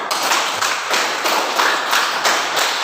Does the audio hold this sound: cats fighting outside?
no